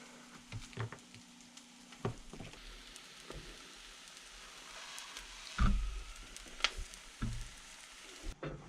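Cheese melting over a breakfast in a pan gives a soft, steady sizzle and hiss, with scattered clicks and a few sharper knocks, close but low in level, with no voices.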